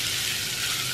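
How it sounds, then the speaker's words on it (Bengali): Sliced bitter gourd frying in oil in a pan while being stirred, a steady, close sizzle that stays loud and unbroken throughout. "এভাবে করে নেড়ে ফেলে দিচ্ছি, আমি 2-3 মিনিট নাড়ব"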